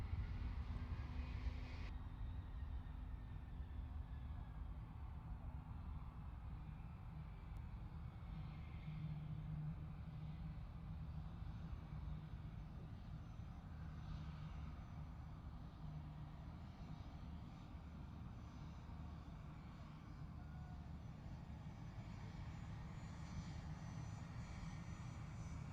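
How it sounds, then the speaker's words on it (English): An Antonov An-178 regional jet with Progress D-436 turbofans powers up at the Farnborough International Airshow, a loud, steady, rumbling roar with a rising whine, heard at a distance across an open airfield with no talking. "Power coming up on the Antonov, on the Ant, the 178."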